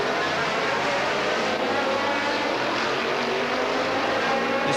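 A Ford and a Jaguar race car at the 1984 Miami Grand Prix IMSA event give a continuous loud, rasping engine roar with a dense, even texture and no clear pass-by swell.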